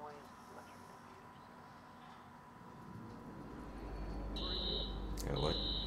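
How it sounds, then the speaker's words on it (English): A high electronic alarm tone sounds in two short bursts near the end of a stealth scene in the Watch Dogs video game, over a low rumbling background. "Alarm's been tripped."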